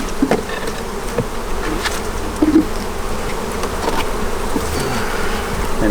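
Honey bees buzz around an abandoned hive being rescued, a continuous close, dense drone of many insects with a few soft knocks and clicks of handling, no talking.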